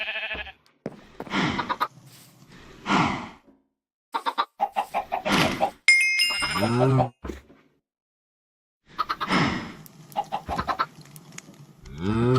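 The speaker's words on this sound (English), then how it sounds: "Let's go ahead and get some more chickens." Minecraft chickens cluck in short repeated bursts from close by, mixed with bleating farm animals, broken by brief silent gaps.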